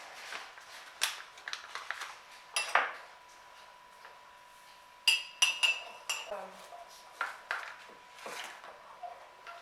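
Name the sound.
spoon stirring Ancel mug cake batter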